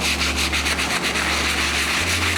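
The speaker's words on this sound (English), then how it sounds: "go in with the stiff bristle brush, dip that in there, start scrubbing" A stiff bristle brush scrubs the soles of an Off-White Jordan 4 sneaker in steady, rapid back-and-forth strokes, close and continuous.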